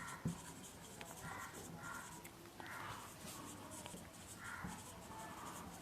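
Marker or chalk strokes on a classroom board come as soft repeated scratchy swipes, several separate strokes at a steady pace, faint and close with room hiss behind them.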